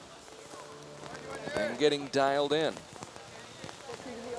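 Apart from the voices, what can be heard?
heavy rain falling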